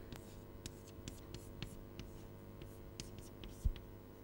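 A lecturer writes out an equation on a writing surface, making faint, continuous scratchy pen or chalk strokes in short bursts over a low room hum.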